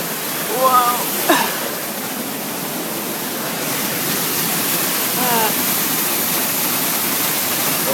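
A waterfall gives a steady, loud, broad roar of rushing water close by, with brief voices talking over it early on.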